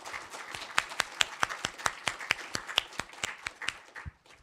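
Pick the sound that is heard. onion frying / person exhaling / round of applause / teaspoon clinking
round of applause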